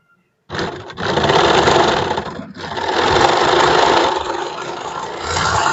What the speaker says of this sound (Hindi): तो इस तरीके से हमने सिलाई को लगा लिया